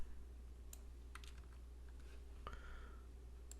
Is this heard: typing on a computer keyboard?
yes